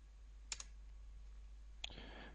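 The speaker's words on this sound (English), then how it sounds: "you can just start typing directly into your keyboard" A few quiet keystrokes on a computer keyboard, two brief clicks early and a short cluster later, isolated against a low steady background hum.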